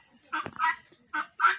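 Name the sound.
peacock call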